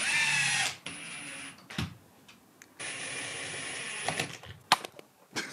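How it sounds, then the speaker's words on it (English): A power drill bores a couple of pilot holes through the back of an aluminium LED channel, loud whirring bursts broken by short pauses and bumps of handling. "We just need a couple of pilot holes through the back of the aluminium channel"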